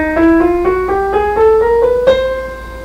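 A piano plays a rising chromatic scale, about eight evenly spaced keystrokes stepping upward by adjacent notes, each ringing briefly into the next.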